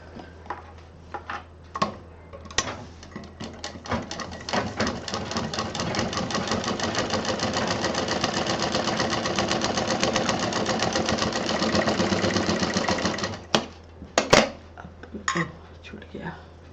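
A sewing machine stitches a fabric sling bag's lining in one long, steady rapid run of mechanical chatter, framed by scattered clicks, clacks and handling knocks before and after.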